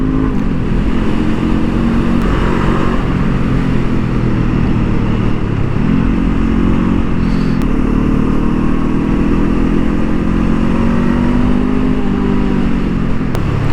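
A 2023 Honda CL 500 motorcycle engine pulls hard on a racing track, a loud continuous drone that rises through the revs, dips briefly at a shift, then climbs again with wind noise.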